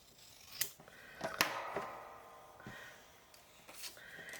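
Scissors snip through paper for a homemade Christmas card, a few crisp cuts close by with short pauses between them and no talking.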